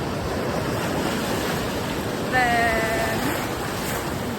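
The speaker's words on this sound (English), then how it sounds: "The waves are nice. They're crashing bigger" Ocean waves roll and crash on a beach in a steady broad wash of surf with wind noise, a swell rising midway; a brief tonal whistle cuts through, and a voice is barely audible.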